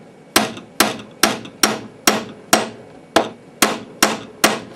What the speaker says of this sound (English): just driving the pin in the rest of the way with a drift